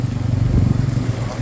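A motorcycle on a mountain ghat road at night gives a close, steady low engine rumble with wind noise throughout the short stretch.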